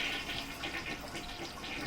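Water runs steadily down into a toilet bowl, a close, continuous rushing sound with no talk over it.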